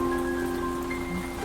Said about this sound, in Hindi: जंगल के कच्चे रास्ते पर शंकर का ट्रक भारी बारिश को चीरता हुआ आगे बढ़ रहा था।